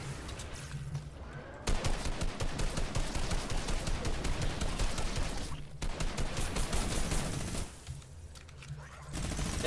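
Dense, sustained automatic gunfire from a minigun in the video game Fortnite, a loud continuous rattling burst that cuts out briefly near the middle and again toward the end before resuming.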